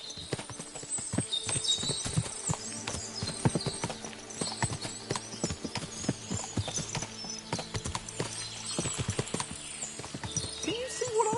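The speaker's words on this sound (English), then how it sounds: "What a lot of horses!" Horses' hooves clip-clop in a video game, many horses trotting in dense, overlapping beats with an occasional whinny, steady and fairly close throughout.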